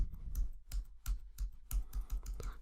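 A computer keyboard clacks quietly nearby, with a run of separate key presses in uneven rhythm, each tap short and crisp against a low background hum.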